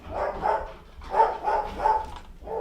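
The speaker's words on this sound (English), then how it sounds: "Sorry for my dog." A dog barks indoors in a run of four or five muffled woofs with short gaps between them, fairly loud and with no speech over it.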